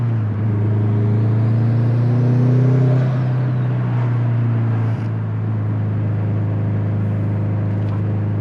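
Turbocharged Subaru STI with a stock block making 457 wheel horsepower, a loud, steady engine drone heard from inside the car that swells briefly, then eases into an even cruise.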